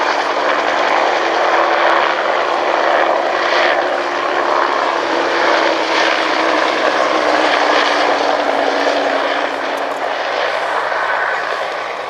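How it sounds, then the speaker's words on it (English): A Bell Huey helicopter, a later model based on the Bell 205, drones steadily overhead at an airshow, its rotor and engine noise loud and continuous throughout with no voices. "This is one of the later model Hueys, based on the Bell 205 design."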